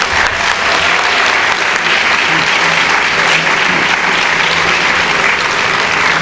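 Loud, continuous applause from a crowd at a staff recognition ceremony honoring an honoree, dense even clapping sustained throughout without a break.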